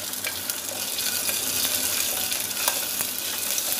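Ginger garlic paste fries with whole spices in a pan for handi dum paneer kali mirch, a steady close sizzle with crackly pops running throughout.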